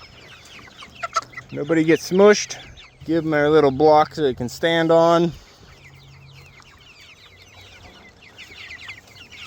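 Chickens cluck and squawk loudly up close in bursts in a barn, while a person talks between them; quieter rustling follows.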